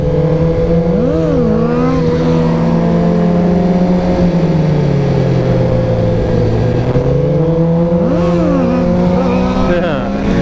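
An engine rising and falling in pitch as throttle is applied, a loud, close, continuous drone with repeated rev swells, while a voice talks over it at times.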